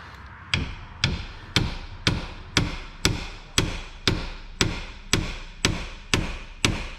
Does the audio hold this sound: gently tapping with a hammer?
yes